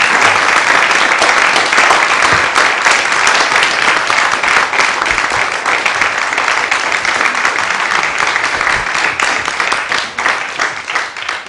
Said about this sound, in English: I just want us to give all of them and ourselves a round of applause.